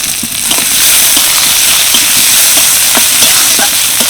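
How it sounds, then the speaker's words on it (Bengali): Chopped capsicum and green chili frying with onions in a pan, a loud, steady sizzle with light scraping taps as the mix is stirred. "পেঁয়াজটা হালকা ভাজা ভাজা হয়ে গেছে এবার দিয়ে দিচ্ছি অল্প একটু ক্যাপসিকাম কুচি কাঁচা লঙ্কা কুচি"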